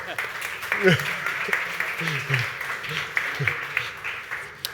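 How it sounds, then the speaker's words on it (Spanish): Audience applause in a hall greets a speaker arriving at a Spanish-language economics panel, steady broadband clapping for several seconds with voices talking over it. "Un aplauso."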